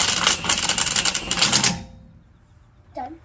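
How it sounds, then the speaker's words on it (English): An impact wrench tightening wheel bolts on a Buick, set low: a loud rapid hammering rattle for under two seconds that cuts off abruptly, followed by quiet and a short voice. "That's why I like that impact, because I can turn it down really low."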